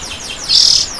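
A magpie robin (kacer) kept for breeding gives a short, bright chirp, a quick rising and falling whistled note close by, with no talking.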